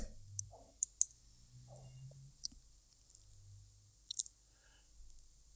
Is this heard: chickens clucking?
no